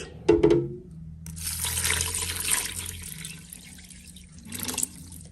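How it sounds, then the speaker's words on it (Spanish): Water poured from a tap into a pressure cooker pot holding meat with bay leaf, salt and oregano, a steady splashing gush that swells then tapers, with a brief clatter at the start and a second burst near the end. "Le vamos a agregar agua hasta cubrir."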